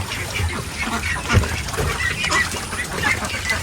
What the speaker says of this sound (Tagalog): Yan, may mga itik sila dyan. Binabantayan.